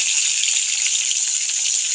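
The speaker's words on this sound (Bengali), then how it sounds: "একদম কড়া করে ভেজে নেব" Fish sizzles steadily in hot oil, a loud, continuous hiss and crackle with no talking.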